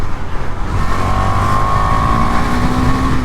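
A 2023 KTM Duke 390 motorcycle in Liquid Metal finish, its engine droning steadily while being ridden, with a rising tone as it accelerates, loud and close throughout.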